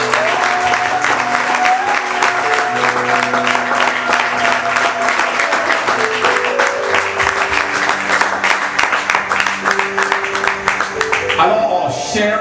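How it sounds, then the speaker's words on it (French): Church audience applauding and cheering to welcome a gospel choir at an evangelical ministry event, steady dense clapping throughout over sustained background music, swelling near the end. "je vais vous demander de les acclamer aussi fort que possible"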